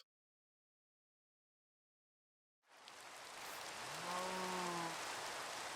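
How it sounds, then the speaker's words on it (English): Steady hiss of rain in Minecraft begins abruptly after a stretch of silence, then keeps up as a broad, even wash, with a few tonal game sounds sitting briefly under it. "It's raining!"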